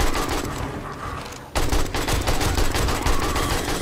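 AK rifle fire rattles in the survival video game 7 Days to Die on horde night, as rapid loud bursts that pause briefly and then resume in a dense, continuous volley.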